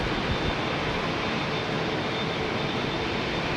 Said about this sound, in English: Here comes that Egyptair 737 freighter, folks.